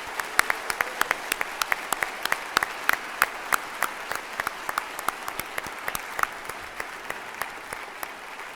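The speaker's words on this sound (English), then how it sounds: "Could we have another round of applause for them," Graduation-ceremony audience applauding master's degree recipients at the University of New Brunswick Encaenia, a steady patter of individual crisp claps from a mid-sized crowd, moderately loud and sustained throughout without any talk.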